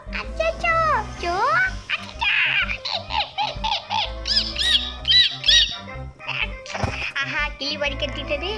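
Shrill parrot squawks and chirpy bird calls from a video game, Grow a Garden, sweep up and down over a thumping electronic beat, with a voice talking in between.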